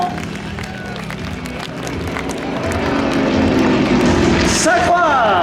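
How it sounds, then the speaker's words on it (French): Air show crowd at Biscarrosse clapping and cheering for an aerobatic display team, a spread of applause rising steadily under a French-speaking announcer, with an aircraft engine droning in the background. "Merci beaucoup pour vos applaudissements et vos encouragements."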